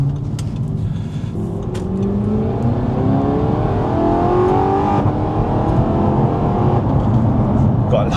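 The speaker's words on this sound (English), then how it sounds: "Gotta love that sound, hopefully it's picking it up." An Audi R8 with a V8 engine revs and accelerates, its loud engine note climbing in pitch over several seconds with a steady rumble underneath.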